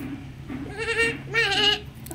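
A voice imitates a sheep's bleat twice, wavering calls with a short pause between them.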